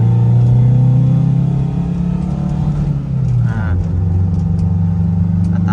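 A Tata diesel vehicle on a test drive after brake, clutch and air-conditioning checks, its engine droning loudly up close, briefly dipping and shifting pitch midway as it changes gear.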